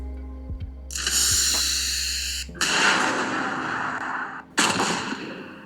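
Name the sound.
explosion sound effects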